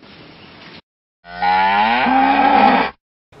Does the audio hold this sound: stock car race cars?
no